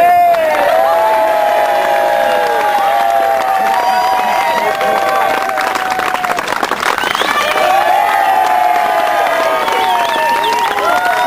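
A loud, dense crowd cheers and whistles continuously throughout, with scattered shouts and applause, celebrating the 2008 Oyster Fayre backsword champion at an outdoor stick-fighting final.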